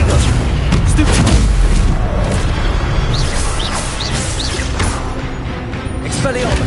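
Rapid bursts of spellcasting in Hogwarts Legacy, with dense booming magical blasts and impacts that overlap continuously at high loudness, mixed with game combat noise.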